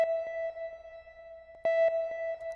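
A sustained sine-wave beep processed with distortion, delay and reverb, gritty and buzzing with bright overtones, with repeating echoes and a reverberant wash as the beep pulses and trails on.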